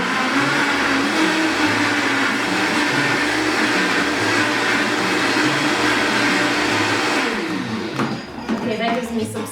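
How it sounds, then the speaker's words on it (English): A blender whirs steadily at a loud, constant pitch as it chops culantro and cilantro for a big batch of sofrito, then winds down and stops near the end. "And then I'm gonna actually just blend this up a little bit to get it going"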